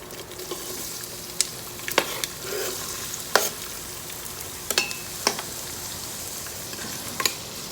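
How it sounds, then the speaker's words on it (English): Chopped onion and cumin seeds stir-frying in oil in an Instant Pot on saute mode, a constant soft sizzle with intermittent sharp clicks and scrapes of a spoon against the metal pot, close and without talk. "we're going to stir fry this until it's light brown in color"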